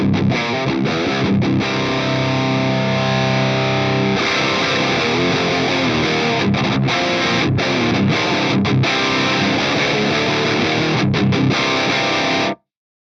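Electric guitar through an Axe-Fx III Triaxis Pre-Lead 1 amp model plays loud distorted chords and riffs, with sustained chugging, brief rhythmic stops, then a sudden cut to silence at the end.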